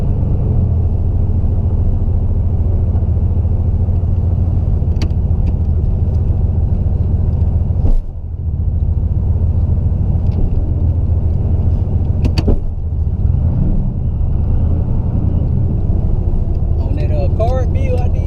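A 500+ HP turbo Camaro on wet ground, a steady deep engine rumble heard from inside the car with a few brief thumps, with people talking over it.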